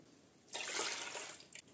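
Water pours into a bowl for Portuguese rissóis dough, a brief close splashing rush that starts suddenly and tapers off within about a second, with no talk.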